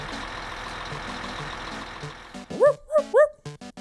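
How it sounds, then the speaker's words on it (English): A cartoon fire truck pulls in, its engine rumble building steadily before a bright, rising two-tone siren wails several times in quick succession, loud and close, ending in a few short blasts. "here comes the fire truck"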